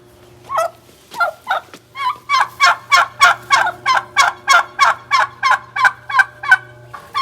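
Turkeys gobbling in a rapid run of about fifteen loud, evenly spaced calls close by, over a low steady hum.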